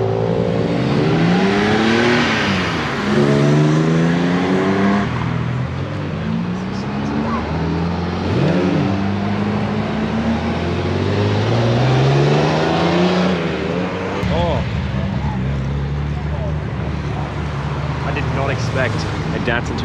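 A Ferrari 812 Superfast and a 488 pull into a Brisbane Cars and Coffee meet, engines revving loudly with rising and falling howls and wails close by, over constant crowd noise and nearby talk.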